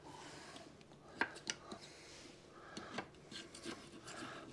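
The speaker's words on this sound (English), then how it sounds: "Take a gasket scraper, run around here, make sure you get all the old gasket off" A gasket scraper rasps old gasket material off a boat motor's mating face for a new SEI Marine SE106 lower unit on a 1976 Starcraft, giving soft irregular scraping strokes with a few sharper scratches, close and fairly quiet.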